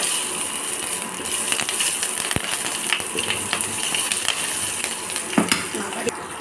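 Paneer stirred with coriander powder and cumin in a frying pan for chili paneer, a dense continuous sizzle with scraping spoon strokes and an occasional sharp metallic clink, close and unbroken.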